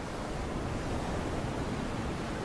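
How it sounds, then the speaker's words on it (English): Ocean waves heard as a steady, even wash of broadband surf noise, soft and continuous with no distinct breaks and no voices. "I love waves."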